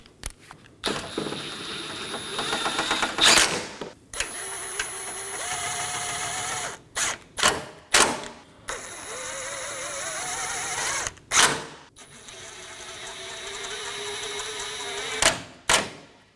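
A ratchet snugs down the 10mm and 8mm crossbar bolts on a Dodge Durango, in several long loud whirring runs broken by brief pauses and clicks, close up with no talking.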